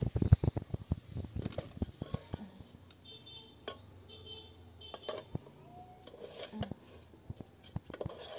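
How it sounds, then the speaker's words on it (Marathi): A spoon stirs vegetable biryani with onions in a cooking pot, scraping and clinking against the metal. Quick clatters come close together at first, then thin out into occasional taps and knocks. "आता हे मिक्स करून घ्यायचं छान असं आपण"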